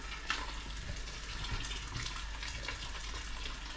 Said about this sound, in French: Après, j'ajoute de l'eau.